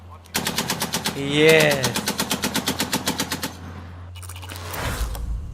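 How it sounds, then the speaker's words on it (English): Rapid bursts of heavy machine gun fire, the primary heavy machine gun of NATO countries, ring out as a loud, evenly spaced string of shots that stops abruptly, with a voice speaking near the start and end. "It's the primary heavy machine gun of NATO countries"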